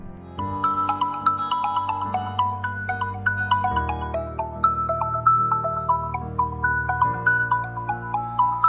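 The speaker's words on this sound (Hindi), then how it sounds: "आपका फोन बज रहा है" A phone rings with a bright, melodic ringtone playing continuously over a steady bass line, looping a cheerful tune with no voices.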